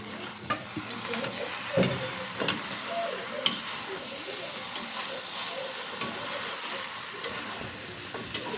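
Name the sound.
potatoes and spiced betki fish sautéing in pan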